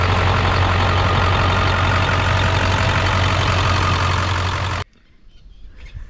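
A Ford F250 pickup with a 7.3-litre high-boost turbo engine idles loudly and steadily with a deep, constant rumble for about five seconds, then cuts off abruptly into near silence.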